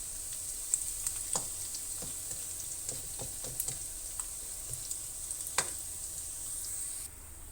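Anchovies frying in hot oil until crisp for nasi goreng kampung, a steady hiss of sizzling broken by scattered sharp pops and crackles for several seconds, without voices.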